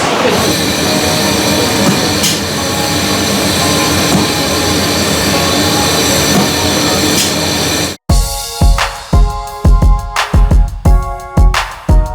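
A steady loud rumble of a moving excursion train in Bryson City, North Carolina fills the first part, then a rhythmic series of clacking wheel-on-rail hits repeats close by.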